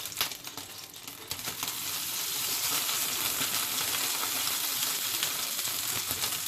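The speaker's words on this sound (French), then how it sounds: "là je vais caraméliser les bananes" Bananas caramelizing in a pan give off a steady, close frying sizzle that swells louder after the first couple of seconds and holds evenly, with no voices.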